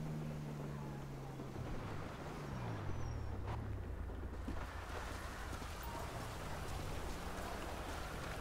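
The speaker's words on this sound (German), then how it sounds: "Wenn es draußen so regnet." Steady rain falling outside a vehicle in the video game GTA V, a dense continuous patter heard from inside the car with a low engine hum beneath it, no talking.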